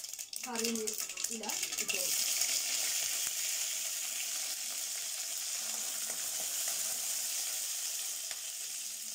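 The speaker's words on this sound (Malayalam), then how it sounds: "ഓയിൽ ചൂടായി വന്നിട്ടുണ്ട് നമുക്ക് കടുക് ആഡ് ചെയ്യാം" Mustard seeds sizzle in hot oil with a constant bright hiss and crackle, close and steady throughout, with a voice briefly heard at the start.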